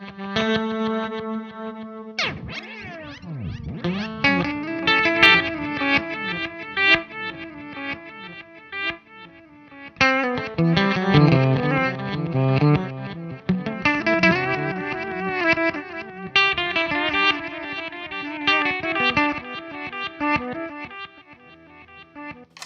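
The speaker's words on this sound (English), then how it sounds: "So it's basically a backwards delay." An electric guitar runs through a delay pedal set to reverse echo, its notes swelling backwards in shimmering, distorted repeats over a long stretch of playing, with no voice.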